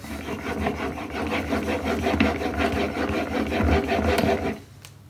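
The flat back of a steel chisel is rubbed on a 6000 grit sharpening stone, giving close, steady rasping strokes in a quick back-and-forth rhythm that stop abruptly near the end, with no voices.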